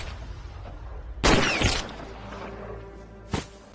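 A gunshot in the Indian crime film Raees: a single sharp, loud burst that rings out for about half a second, followed by a quieter, short crack a couple of seconds later over a low dramatic background.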